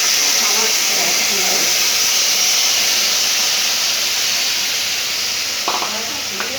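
Mustard-poppy paste and green chilli paste hit hot oil tempered with nigella seeds for a pomfret fish curry, giving a loud, steady, broad hiss that runs throughout, with a brief clatter near the end.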